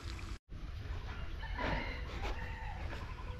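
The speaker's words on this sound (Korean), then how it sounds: "양 사방에서 닭 소리가 들려. 꼬끼오 이렇게." Chickens cluck and crow outdoors in Singapore Botanic Gardens, with a crow-like call rising mid-way over constant open-air background noise.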